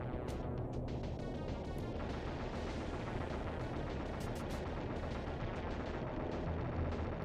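Video game gunfire crackles in a dense, continuous barrage of rapid shots and blasts, faint and distant in the mix, running unbroken for several seconds.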